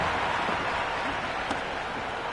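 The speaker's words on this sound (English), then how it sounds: "The crowd are really getting quite raucous." A raucous cricket stadium crowd roars in the video game Cricket 26 during a CSK vs DC match, a dense continuous wash of loud cheering and noise with no break.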